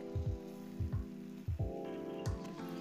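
Bread halwa cooking in ghee while a spoon stirs it, giving a soft sizzle under repeated low thumps and scrapes every half second or so, with a sustained background hum, fairly quiet and close.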